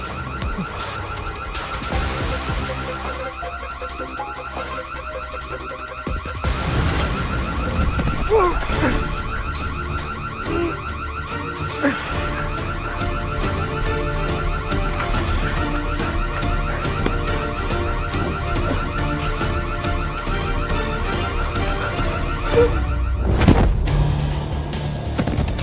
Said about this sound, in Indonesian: Kok alarmnya bunyi begini sebenarnya?